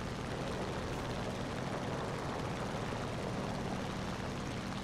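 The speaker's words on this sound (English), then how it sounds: "I hear a plane." A propeller plane in War Thunder drones as a continuous, fairly faint broadband engine roar, steady throughout with no talk over it.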